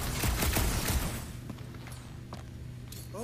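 Rapid gunfire bursts from the Guardians of the Galaxy video game crackle in the opening second, then fade into quieter game sounds and scattered thumps.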